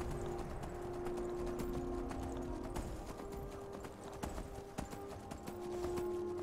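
Horse hooves clip-clop steadily as a mount climbs rocky ground in Skyrim, a dense run of close, crisp hoof strikes over a low ambient game backdrop.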